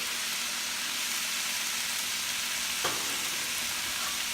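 Fish frying in a pan with fish sauce and pepper for sweet and sour fish: a steady, even sizzle with a faint hiss, continuous and close, no talking.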